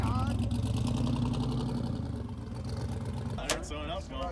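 A 1000+ horsepower twin-turbo Chevrolet Camaro idling at a cars-and-coffee meet, with a steady, loud, rumbling engine drone that continues throughout and swells slightly near the end.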